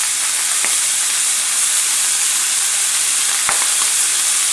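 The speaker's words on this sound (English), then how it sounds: "searing, it's smoking up a little. It's just the fat is melting on the steak." A NY strip steak searing in a hot pan, blackened style, with its fat melting: a steady loud sizzle and hiss throughout, with a couple of brief pops.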